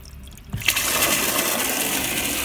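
Water gushes strongly from a tap fed by a Sanyo PH137AC water pump, starting abruptly after a quiet moment and then rushing steadily and loudly.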